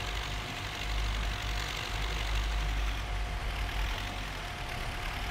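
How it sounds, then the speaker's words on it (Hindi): Sonalika tractor engine in Farming Simulator 19 pulling a rotavator through a field: a steady, low, rumbling drone with broad noisy texture, continuous and even throughout, no voices. "सोनालिका का ट्रैक्टर भाई बहुत हॉर्स पावर का है"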